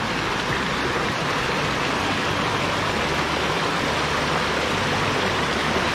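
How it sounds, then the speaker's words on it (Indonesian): A river rushes through tropical rainforest on Mount Trusmadi in Malaysia, a loud, steady broadband roar of flowing water that never lets up. "Bunyi sungai. Alam. Inilah hutan rimba."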